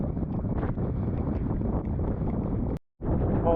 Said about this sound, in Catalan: Encara segueix fent vent